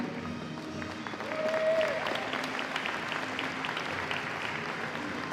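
Steady applause from the audience at the Handball Futures 2026 opening ceremony greets the South youth team, a dense wash of clapping that swells around the second mark and holds through the end.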